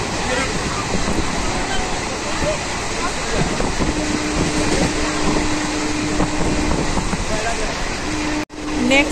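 A crowded passenger train rolls steadily along, carriage rumble and rattling filling the space with a constant loud roar, murmuring passengers underneath, and a brief sharp drop near the end as if passing a gap or structure.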